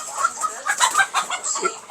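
Chickens clucking from square coops on a rooftop terrace farm, a busy cluster of short overlapping calls at close range with no voices.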